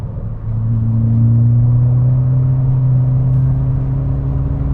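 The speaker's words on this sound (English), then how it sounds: "this car is so much quicker now" A VW MK6 GTI with a Stage 1 ECU tune accelerates, its engine rising from a brief lull into a loud, steady droning rumble with a slowly climbing pitch, heard from inside the car.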